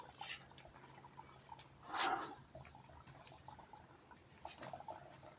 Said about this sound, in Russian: Слышно, как булькает.